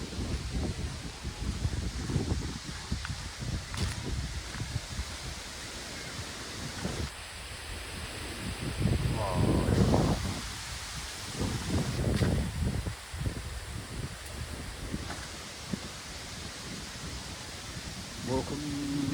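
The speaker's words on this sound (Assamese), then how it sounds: "আজি বতাহ ডাঙৰকৈ জাগাইছে" Strong gusty wind sweeps continuously across an outdoor spot in rainy weather, broadband rushing with rustling leaves and buffeting the microphone, rising in surges; voices talk intermittently beneath.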